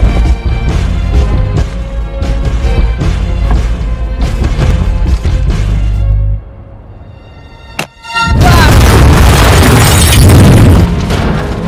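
A detonator-triggered explosion in the action thriller The Expatriate erupts after a tense musical score and a brief hush, bursting into a loud, sustained, roaring blast with crashing debris.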